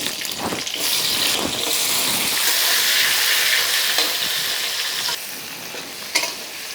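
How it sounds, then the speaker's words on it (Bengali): Onions fry in hot oil while being stirred, a loud, close, continuous sizzle with scraping stirring strokes and a few sharp pops, with no voices. "এবার একই তেলে আমি পেঁয়াজগুলিও ভেজে নিচ্ছি"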